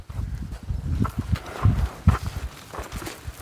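Ridden horse's hooves walking at an unhurried pace, dull thuds on soft ground with some rustling, close by and without talk.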